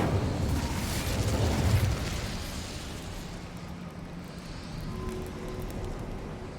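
A fiery Incendio spell blast in the Hogwarts Legacy video game on PS5: a loud, dense whooshing burst that peaks early, then settles into a steady rumbling roar for several seconds, with no voices.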